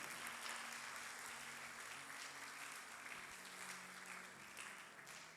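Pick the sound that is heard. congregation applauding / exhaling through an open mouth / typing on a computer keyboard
congregation applauding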